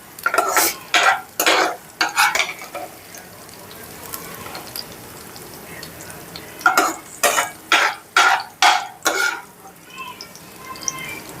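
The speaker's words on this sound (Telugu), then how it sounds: "మనం ఏం చేద్దామంటే జీలకర్ర యాడ్ చేద్దాం కొద్దిగా వేపుకొని అప్పుడు ఉల్లిపాయలు యాడ్ చేసేద్దాం" Cumin seeds and onions fry in a pan for a dried prawn and gongura curry, bursts of loud scraping stirring in two quick rhythmic runs over a soft steady sizzle, no talking.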